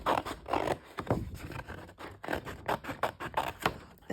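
Scissors snipping through stiff scrapbook paper in a quick run of short crisp cuts with brief pauses, close and fairly quiet, with no talking.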